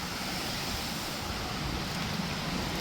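A rough sea surges onto the coast during a storm surge at Anchangadi, heard as a constant broad roar of surf and wind with no distinct breaks.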